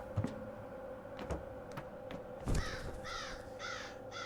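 In the video game Liminal City, crows caw partway through: a few harsh, repeated calls follow some scattered soft clicks and thumps, fairly clear against a quiet background.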